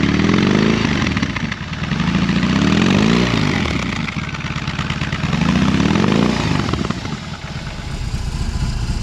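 A BMW R18C motorcycle exhaust, heard from the back, rumbles steadily up close, its engine note rising and falling in a few slow revs before settling back to idle.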